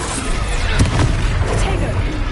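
An Expelliarmus spell is cast in the Hogwarts Legacy video game, a burst of magical whooshing and booming impacts that sits loud and dense, with voices mixed into the action.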